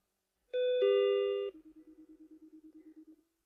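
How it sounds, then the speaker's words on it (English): A small shop's door bell chimes overhead as someone walks in: a clear, sustained two-tone ring that breaks into a quick fluttering pulse and fades out, alone and close. "A small bell rang above our heads."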